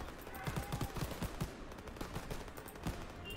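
AK-47 gunfire in Call of Duty WW2 during an ambush, with fairly quiet bursts of rapid shots and separate cracks over a busy battle background.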